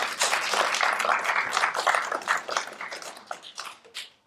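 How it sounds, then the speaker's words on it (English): Applause from the audience at a candidate debate comes as a dense patter of clapping hands that slowly thins out and fades into scattered claps. "that was our last time to applaud for the rest of the evening until we get to the end"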